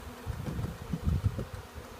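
Honey bees hum in a low, steady drone at an opened hive, swelling in a few brief surges and remaining close and moderately loud with no talking.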